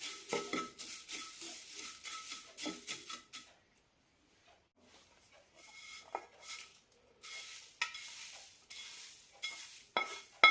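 Roasted drumstick leaves with asafoetida powder are stirred in a pan with repeated scraping and rustling strokes, close by. A brief quiet gap is followed by more uneven stirring.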